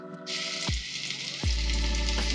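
Oil sizzles steadily with a bright hiss as chopped garlic drops into the pan, with a few low clunks and a faint hum underneath.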